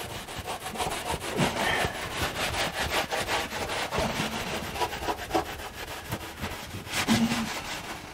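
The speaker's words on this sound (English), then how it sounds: "I'm just going to use some Scotch-Brite just to wipe some of this off." A Scotch-Brite pad scrubs surface rust off metal in quick back-and-forth strokes, a close, rhythmic abrasive rasping that carries on steadily without any talking.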